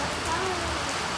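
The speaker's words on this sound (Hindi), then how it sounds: "बहुत भयंकर बारिश हो रही है" Heavy rain pouring down steadily, a dense close hiss of drops hitting surfaces with no breaks, with a voice speaking faintly beneath it.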